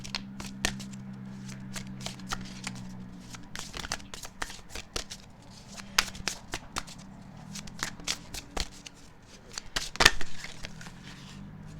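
Tarot cards shuffled and drawn by hand, a dense run of quick crisp riffles and slaps with a louder card snap near the end, close and steady over a low room hum.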